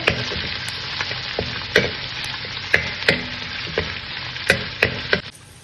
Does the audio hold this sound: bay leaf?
yes